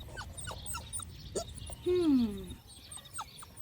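Hungry little puppy by a roadside whimpering, a drawn-out whine that rises and then falls, with softer yelps and clucking fowl around it at a moderate distance.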